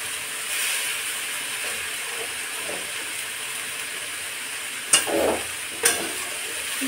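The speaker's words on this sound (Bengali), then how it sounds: "দিয়ে হালকা হাতে একটু নাড়াচাড়া করবো।" Chopped leafy greens fry and sizzle in a pan in a village kitchen, a steady hiss running throughout, with two short sharp scrapes of stirring near the end.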